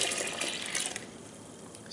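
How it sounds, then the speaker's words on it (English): Water pours into a container of hydrogen peroxide for a shark jaw whitening soak, a steady splashing fill heard up close and fairly loud throughout. "and then we'll go 2 cups of water in there."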